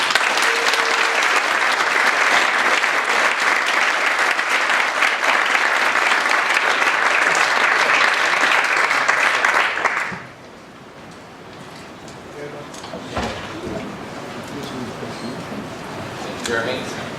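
A seminar audience claps to welcome a speaker, a dense, loud burst of applause lasting about ten seconds before it drops off abruptly into quieter room sounds and scattered noise.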